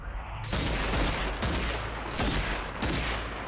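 Pistol shots hit zombies in a first-person zombie video game, loud sharp reports repeating in quick succession, close and dominant with no talking.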